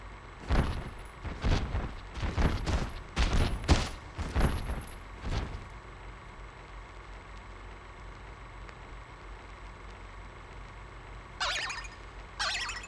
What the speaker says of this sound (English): Hey, look at the toy cannons.